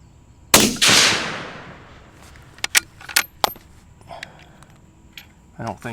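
A single sharp rifle shot from a 6mm Dasher during an OCW load test cracks out loudly with a ringing tail, followed by several quieter, scattered mechanical clicks and knocks.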